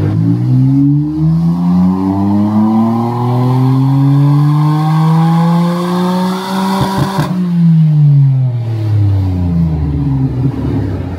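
A stock Nissan R34 GTR, retuned for US pump gas at about 8 psi of boost, revs hard on a dyno, its engine note climbing steadily through a long pull, then falling sharply as the throttle lifts and the revs wind down, loud and close.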